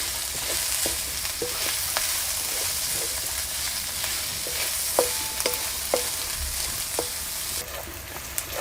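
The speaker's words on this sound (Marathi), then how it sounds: "एक दोन मिनटं आपण हे कांदा परतून घेऊया" Chopped onion sautés in a pan with a constant close-up sizzle, punctuated by sharp ticks and scrapes of a spatula stirring at an irregular pace.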